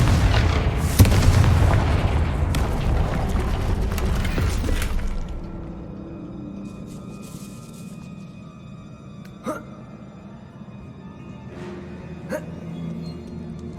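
A Confringo fire spell explodes in Hogwarts Legacy with a loud booming blast that rumbles and crackles for several seconds, then fades into a quiet ambient hum broken by a couple of faint clicks.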